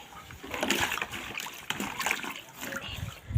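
Cloth sloshing and splashing in water as a purple and green saree is washed by hand, with uneven wet slaps and trickles close by, a brief voice in the background.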